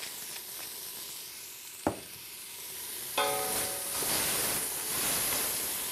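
Vegetables sweat in a soup pot with salt and black pepper, giving a soft steady sizzle and hiss, a brief knock partway through, then a brighter burst of frying noise that carries on, with no talking.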